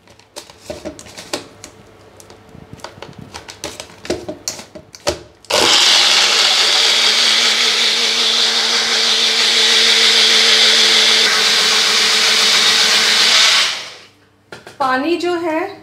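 A blender roars continuously for about eight seconds at close range blending golgappa water, steady and loud, then winds down, with clattering and rustling before it starts.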